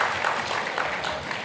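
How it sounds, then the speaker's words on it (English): Applause from a lecture audience at an annual business lecture in Nigeria, steady dense clapping of a crowd heard throughout at moderate level. "Let's hear a round of applause for that post-discourse."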